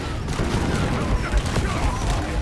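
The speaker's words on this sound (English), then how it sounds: "Cluster grenade!" Cluster grenade explosions pop and rumble in quick, overlapping bursts, a dense, loud volley of booms layered with game noise.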